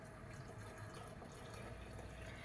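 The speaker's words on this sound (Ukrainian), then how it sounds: "І зараз ми це все діло заляємо водичкою кип'яченою." Boiled water is poured from a kettle over herbs for a homemade immune-boosting tea, a continuous close splashing trickle of liquid filling a cup, steady throughout with no talking.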